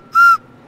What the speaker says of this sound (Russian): Проверяем на свист.